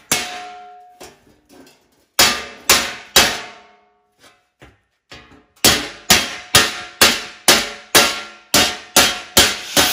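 A hammer strikes the edge of a steel belly pan on a Subaru-swapped VW Bus, giving sharp ringing metallic clangs: three quick blows, some light taps, then a steady run of about ten evenly spaced strikes.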